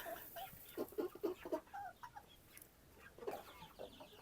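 Chickens cluck softly in short, uneven bursts at a moderate distance, with a few louder clucks near the middle and toward the end.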